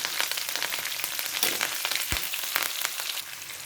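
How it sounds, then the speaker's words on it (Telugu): Green chilies, dried red chilies and curry leaves hit hot oil for tamarind pulihora, giving a soft, continuous crackling sizzle with brief stirring clatters close by. "పచ్చిమిరపకాయలు, ఎండుమిరపకాయలు, కరివేపాకు వేసేసుకోండి."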